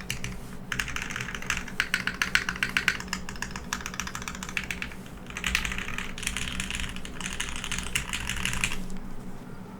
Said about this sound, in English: The stabilizers sound really nice, and the MX Blacks sound really smooth